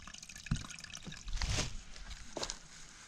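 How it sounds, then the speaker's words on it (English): Water trickles and drips into a pipe at a septic leach field, with a hollow, echoing quality, with occasional louder splashes and a brief gush midway. "I hear water."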